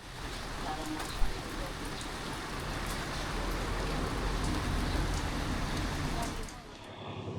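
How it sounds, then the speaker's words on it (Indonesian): Steady rain pours near a reservoir dam in Kerinci, Sumatra, a dense hiss of drops on surfaces that holds throughout before easing near the end, with a brief bump and faint speech beneath. "Hujan cuy."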